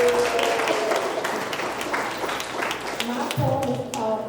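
An audience at a Kwanzaa celebration applauds a young girl poet with a mix of clapping and cheering, heard steadily throughout, while people talk and call out over it.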